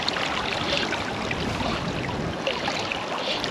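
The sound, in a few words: River Tyne flowing water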